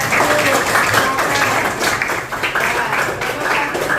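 Classroom applause for the first student group after a presentation in a grade 8 Indonesian lesson, a steady crowd of clapping hands running throughout with voices mixed in.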